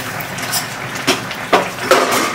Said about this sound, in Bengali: ঢাকনাটা তুলে নিচ্ছি কত দূর কি হয়েছে দেখি।